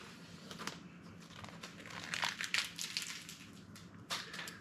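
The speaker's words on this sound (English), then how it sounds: "I'm going to cut some of this off." Vinyl wrap film being trimmed on a Ford Bronco A-pillar: close crinkling, crunching and tearing rustles in uneven bursts, with a louder stretch in the middle and another sharp burst near the end.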